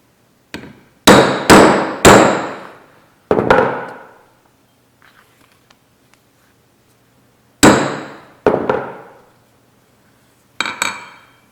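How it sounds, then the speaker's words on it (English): A hammer strikes a metal punch through a leather strap pad in sharp, ringing blows, three quick hits, a pause, a single strike, then another group of hits with brief silences between. "So we will now punch out the slots."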